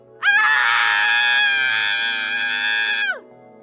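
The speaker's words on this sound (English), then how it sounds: "Before Twilight could ask anything, Mayor Mare screamed." A pony mare screams in a fanfic reading, one long, loud, high-pitched wail held for about three seconds before it cuts off, alone with no talk.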